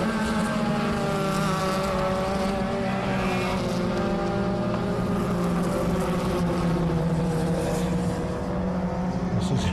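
Club race cars, a little Chevy, a Porsche 924 and a VW Beetle, roar steadily around a track during a ten-lap heat, engines droning continuously and loud without pause.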